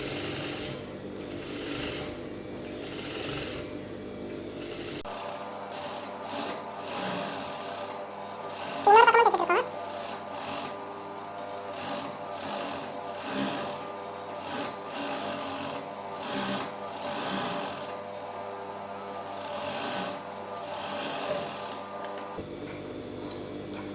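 A sewing machine stitches a lined blouse, running steadily at close range for most of the stretch after a quiet opening, with a brief louder burst partway through and no talk.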